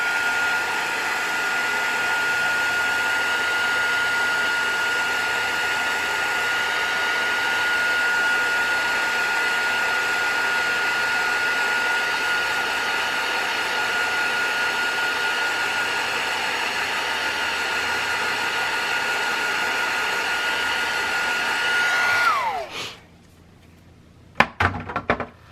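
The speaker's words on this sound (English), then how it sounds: "So then I'm gonna take a heat gun." Steady, loud whirring blast of a heat gun heating crafting ink, holding a constant tone for over twenty seconds before switching off, followed by a few brief knocks and clatters.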